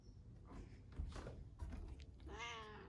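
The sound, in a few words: cat meowing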